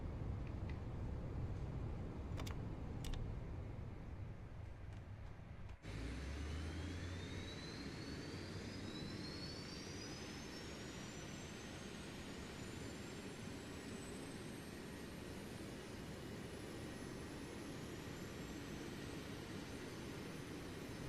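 A380 jet engines spool up in Microsoft Flight Simulator 2024, a steady roar with a thin whine rising in pitch as they start, holding loud and even throughout.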